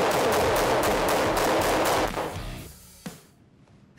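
AK-74 assault rifle firing in a video game, rapid loud bursts of automatic fire for about two seconds, then a few scattered shots and fading echoes.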